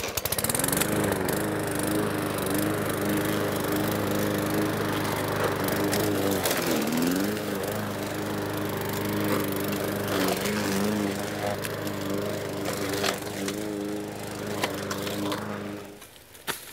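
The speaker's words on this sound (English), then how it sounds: "I'm probably just going to run the mower over some of this" Petrol lawn mower running steadily without a grass catcher, cutting grass around an apple tree in a UK food forest garden; a loud, continuous engine drone with shifting load, close by, before cutting out near the end.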